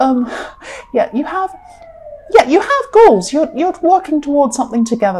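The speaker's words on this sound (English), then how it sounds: "excuse that siren" A siren wails through the background, rising and falling, while a person talks steadily over it in the foreground.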